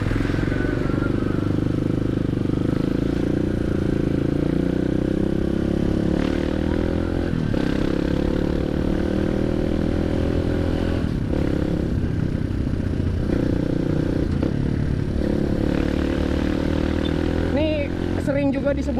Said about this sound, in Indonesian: untuk yang penasaran suara knalpot, ya kurang lebih suara knalpotnya kayak gini